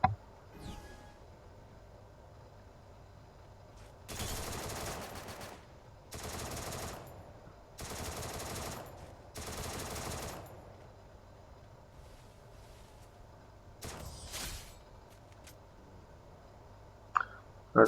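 Bursts of automatic gunfire from the video game Free Fire, four sustained volleys in quick succession, then a shorter burst and a few isolated shots, loud and close against a quiet game background.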